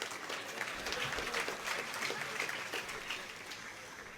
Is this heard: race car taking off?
no